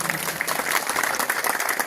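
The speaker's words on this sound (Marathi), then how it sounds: "खारगे साहेबांसाठी एकदा जोरदार टाळ्या झाल्या पाहिजेत" Loud, dense applause from a village crowd welcoming a guest of honour at a Maharashtra government outreach camp, steady clapping with no pause throughout.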